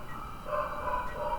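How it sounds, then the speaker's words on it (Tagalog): A dog barks repeatedly in a steady run of yaps somewhere nearby, heard on its own at moderate loudness with no talking. "Tapos may kumakaw na aso."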